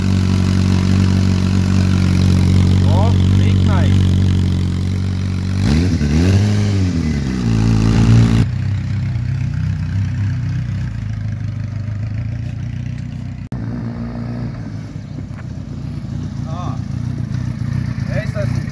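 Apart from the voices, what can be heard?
sport motorcycle engine idling and revving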